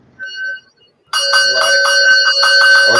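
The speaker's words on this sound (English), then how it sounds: "we have to ring the bell now" A bell is rung in Pattaya, a short tone first, then after a brief gap a loud, sustained bright ringing with a rapid repeated pulse that carries on to the end.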